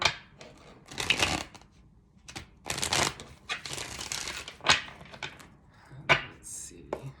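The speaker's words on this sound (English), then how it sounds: "you see like how these cards are shuffling" Repeated riffling and shuffling of a tarot card deck in short bursts, close and crisp, with pauses between shuffles.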